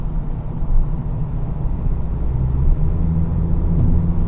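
A VW Polo GTI accelerates along an open highway, giving a steady low engine and road rumble that builds slightly, close inside the car, with no talking.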